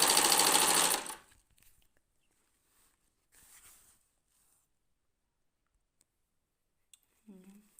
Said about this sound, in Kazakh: Екеуін қосып тігеміз.